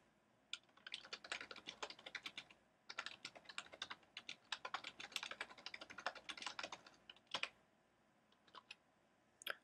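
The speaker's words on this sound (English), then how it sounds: "So I've typed up a little sentence that I want to use as my link." Typing on a computer keyboard, close and fairly quiet, in two quick bursts of rapid key clicks separated by a short pause, then a few scattered keystrokes.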